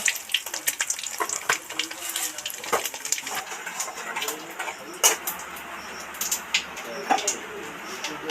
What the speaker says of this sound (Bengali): পাঁচফোড়ন লাল লাল করে ভাজা হয়ে গেছে